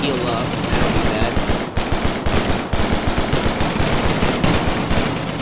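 Thompson submachine gun firing in rapid, sustained automatic bursts in the Gorebox game, loud and close, with brief pauses between strings of shots.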